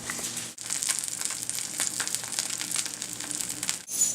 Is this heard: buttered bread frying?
yes